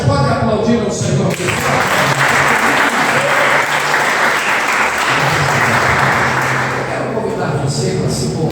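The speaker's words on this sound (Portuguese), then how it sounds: "Você pode aplaudir ao Senhor?" A church congregation applauding, loud sustained clapping from many people that fills the room and swells before tapering, with a voice speaking over it at the start and end.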